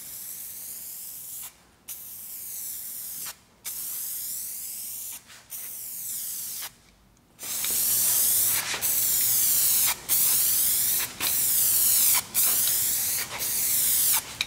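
Spray can primer on a car hissing in long steady bursts with 50% overlap, about a dozen passes separated by short pauses, the later ones louder and closer.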